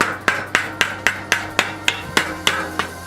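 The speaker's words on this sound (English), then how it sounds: "this is a really light hammer as well, so if you're using a normal hammer, it's just like pretty much the weight of the hammer is enough to hit it" A light hammer taps sheet metal to roll the edge of a fabricated front lip, about ten evenly spaced sharp metallic strikes, close and fairly soft, with no talk.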